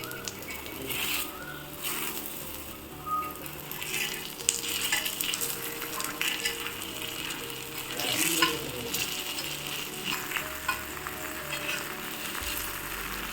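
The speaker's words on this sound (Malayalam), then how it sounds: "നമുക്ക് ലേശം ഓയിൽ ഒഴിച്ചു കൊടുക്കാം. എന്നിട്ട് ഒരു 2 മിനിറ്റ് അടച്ചു വെച്ച് കുക്ക് ചെയ്യാം." Mini masala dosas fry in oil in a covered pan, giving a steady close sizzle and crackle with occasional louder spits and faint scraping throughout, and no one talking.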